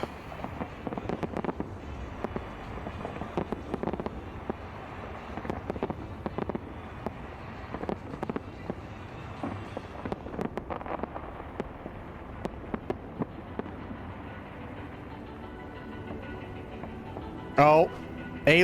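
Fireworks exploding at a New Year's celebration, heard as a run of scattered crackles and dull bursts under steady conversation, with a few louder pops near the end.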